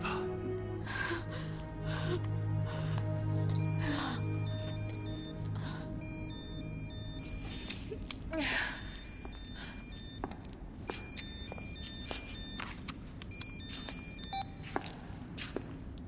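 A telephone rings with repeated electronic trilling bursts in a tense scene, moderately loud among footsteps and breathy movement, with brief talk around it.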